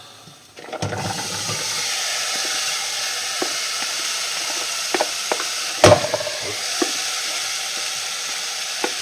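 Steady loud sizzling of food frying in a pot, with occasional clinks and a sharp clatter midway as potatoes and boiling water are added and stirred.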